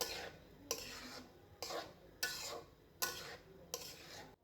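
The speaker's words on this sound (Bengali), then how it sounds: "এখন সবকিছু একসাথে ভালো করে মিশিয়ে নিচ্ছি" Prawn fried rice with boiled, drained rice being stirred and tossed together in a pan, a series of about six rhythmic scraping sweeps with light clinks, close and clear with no talk.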